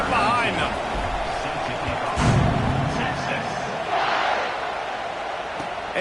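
A stadium crowd in a football video game gives a steady roar with a few swells as teams line up for a kickoff after a touchdown, while a commentator talks over it.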